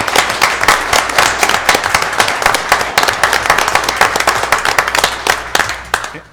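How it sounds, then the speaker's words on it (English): An audience at a meeting claps, a dense, steady spatter of many hands close by that carries on for several seconds before cutting off. "Let's give a round of applause."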